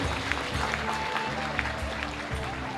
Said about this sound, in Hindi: उसके लिए एक बार सभी जोरदार तालियां बजाइए।